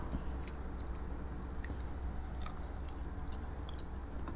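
Someone chews Monthong durian from Nam Yuen district, Ubon Ratchathani, grown in volcanic soil, with soft close-up bites and squishy crunches against a steady low hum, quiet and intermittent over several seconds.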